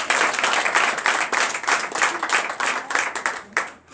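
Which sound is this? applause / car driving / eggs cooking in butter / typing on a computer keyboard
applause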